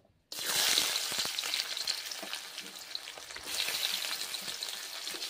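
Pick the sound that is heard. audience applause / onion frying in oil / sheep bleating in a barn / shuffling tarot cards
onion frying in oil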